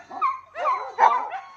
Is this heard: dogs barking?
yes